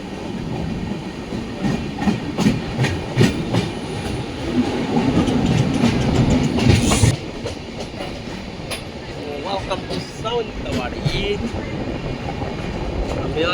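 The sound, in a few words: Konkan Kanya Express train arriving at platform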